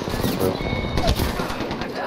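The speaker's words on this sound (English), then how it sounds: "Oh, I was shooting the wrong person!" Rapid gunfire in the shooter game Apex Legends, a dense continuous burst of shots under game effects, with a player talking over it.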